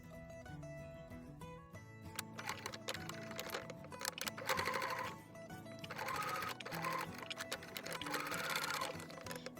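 Sewing machine stitching fabric for a deep V neckline, running in rapid mechanical bursts with brief pauses between runs, close and fairly quiet.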